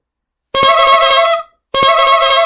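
A novelty vehicle horn sounds two long, loud, bright tones, each about a second, separated by a short gap of silence.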